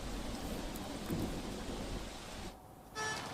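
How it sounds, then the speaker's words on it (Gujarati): Steady heavy rain hisses throughout in Surat, fairly faint, with a brief dip and a lighter patter near the end; no voices. "સુરત શહેરમાં વહેલી સવારથી ધોધમાર વરસાદ વરસી રહ્યો છે"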